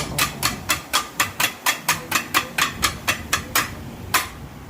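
Kothu parotta is chopped on a griddle with sharp metal blade strikes, about fifteen evenly spaced clangs in a steady rhythm, loud and close with little else audible.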